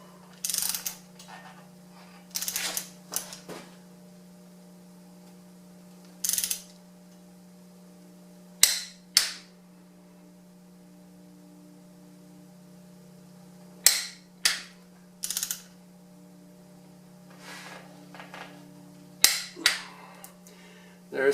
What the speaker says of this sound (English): then we tighten the nut to 60 foot-pounds